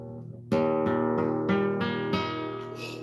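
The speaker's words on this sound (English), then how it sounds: "This dumpster guitar should not sound like this." An electric guitar assembled from a body salvaged from a dumpster, strummed as a series of ringing chords, about six strikes each leaving a sustained harmonic tail, played alone and close up.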